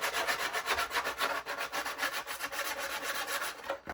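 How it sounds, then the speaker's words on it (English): Sandpaper rubs steadily across a plastic stormtrooper armor plate in rapid, rhythmic back-and-forth strokes, close and fairly quiet, with no voices. "time to sand, starting with rough,"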